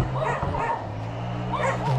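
Several dogs bark and yip at an empty house in a rural Philippine fishpond area, with short repeated barks and whimpers heard fairly close, set against a steady low background hum.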